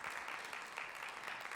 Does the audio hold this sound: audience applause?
yes